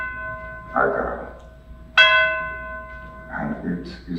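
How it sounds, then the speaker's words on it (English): A single bell tolls during a stage production of Macbeth, a clear ringing strike with a long sustained hum, sounding between lines of an actor's speech. "Bell invites me. Fear it not, Duncan, for it is a knell that summons thee to heaven"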